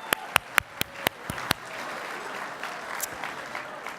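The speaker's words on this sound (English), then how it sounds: "How about a big round of applause for yourselves for coming out tonight?" Audience at an awards ceremony gives a round of applause: a few loud, sharp claps up close at first, then a softer, steady wash of crowd clapping that carries on evenly to the end.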